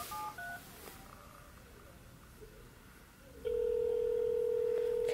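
Electronic dialing tones from an old-style telephone, a few short beeps followed by a long, steady, loud tone, with faint background noise and no talk.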